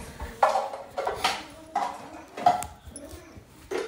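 Pots and pans, including a kadhai and a pressure cooker, being washed: a series of irregular metallic clanks and scrapes with water rinsing between them, close and moderately loud.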